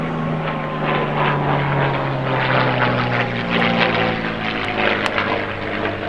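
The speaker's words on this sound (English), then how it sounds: "a P-51 Mustang flies over your house while you're trying to film" A P-51 Mustang propeller plane flies over a house, its loud droning engine roar steady and close overhead throughout with no talk.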